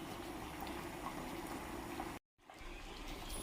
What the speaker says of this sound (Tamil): குழம்பு நல்லா கொதிக்குதுங்க